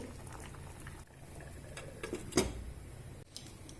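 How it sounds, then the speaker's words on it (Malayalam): Tuna bubbling in a covered pot on the stove, a soft continuous patter of boiling liquid with a brief knock partway through. "അപ്പോൾ നമ്മുടെ ട്യൂണയൊക്കെ നന്നായിട്ട് തിളച്ച് തുടങ്ങുന്നുണ്ട്."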